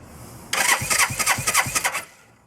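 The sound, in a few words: Suzuki GS500 motorcycle engine being cranked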